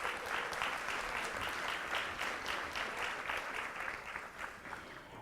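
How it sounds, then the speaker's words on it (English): A school board meeting audience gives a sixth grader's recognition a sustained round of applause, dense and even at first, then gradually fading toward the end. "Let's give Josiah another round of applause"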